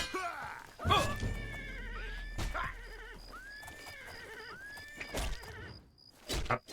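Shadowmere, a horse in the game Oblivion, gives several loud, sharp whinnies after blows land, with thumping hits and hoof sounds in between and soft game ambience around them.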